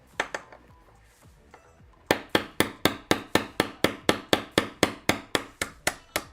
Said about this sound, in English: So I could tap the pulley itself.